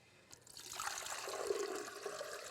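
Water trickles and pours steadily into a blender jar for a cashew-based recipe, a soft continuous splash heard alone at close range.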